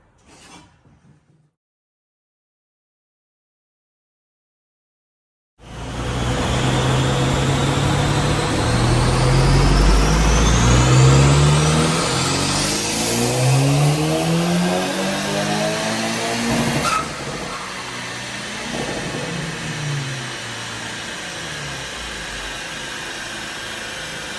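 A Honda Civic FK8 Type R fitted with a new turbo revs hard on a dyno. After silence, the engine bursts in loud and sweeps upward in a long sustained pull, then settles to a steady roar.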